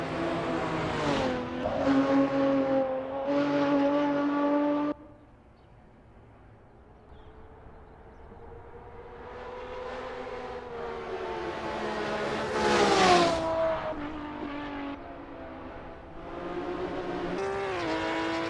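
Nissan R380 race car lapping Sebring in Assetto Corsa, its engine revving up and down through gear changes, dropping to a quiet lull before building again into a loud, screaming pass with brief tire squeal.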